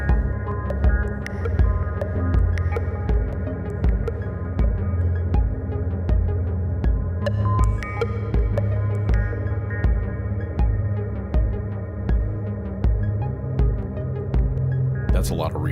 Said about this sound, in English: That's a lot of reverb. That might be an excessive amount of reverb.